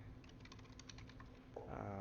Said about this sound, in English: Now we can start typing in